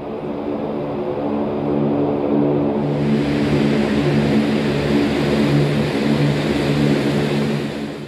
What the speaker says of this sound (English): As this massive plane made the turn and headed in towards the volunteers